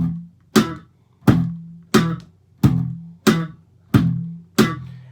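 Plucked string bass snapped back against the fingerboard in a slapped, percussive line imitating a drum beat, seven sharp attacks at a steady groove, each with a brief low ringing tail, close and alone.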